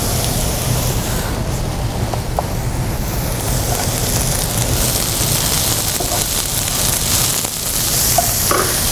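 Swiss chard sautéing in a pan over very high heat, a continuous loud sizzle and crackle of water cooking off the leaves, with occasional stirring clicks and no talking.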